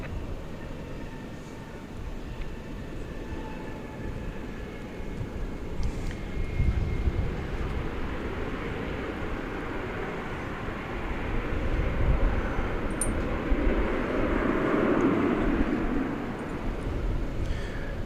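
A fixed-wing airliner landing on runway 18 right at DFW Airport, a steady broad engine roar that swells toward the end of the clip, with no speech over it.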